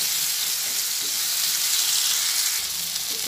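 Potatoes and pointed gourd fry together in a pan, giving a loud, dense, continuous sizzle with no pauses or voices.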